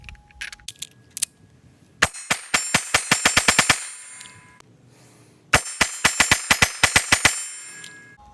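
Springfield Hellcat pistol rounds striking steel targets at a range, two rapid strings of about ten sharp ringing clangs each with a short pause between, loud and close, preceded by a few scattered single hits.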